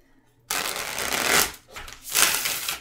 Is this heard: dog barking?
no